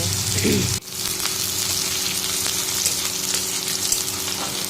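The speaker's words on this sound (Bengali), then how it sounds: "দেখো পেঁয়াজ কুচিগুলো দিয়ে দিলাম এবার পেঁয়াজটা হালকা হালকা ভাজা হলে" Chopped onions hit hot oil for a tilapia fish curry with a loud splashing burst, then fry in a continuous, dense, close sizzle.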